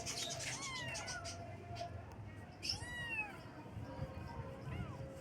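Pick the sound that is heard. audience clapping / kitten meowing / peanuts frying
kitten meowing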